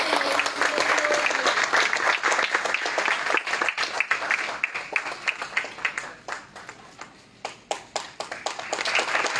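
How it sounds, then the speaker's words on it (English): Sustained audience applause at a photography and filmmaking course launch event, a dense steady wash of many hands that thins into scattered individual claps toward the end. "With a big round of applause"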